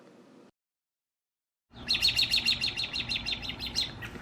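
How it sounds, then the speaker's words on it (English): A short faint sound gives way to silence, then a flock of birds breaks into loud, close, rapid chirping and crying calls repeated in a quick rhythm until the end. "And here the birds,"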